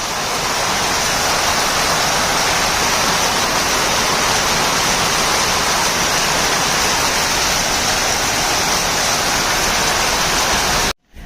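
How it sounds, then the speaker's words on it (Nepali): Rain pours down around five in the early morning along a truck route, making a loud, dense and continuous hiss that does not vary for the whole stretch and then cuts off abruptly at the end. "पानी परिरहेको छ।"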